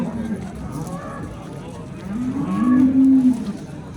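A cow moos twice at a livestock market, a short low call near the start and a longer, louder drawn-out one around the middle, with crowd murmur in the background.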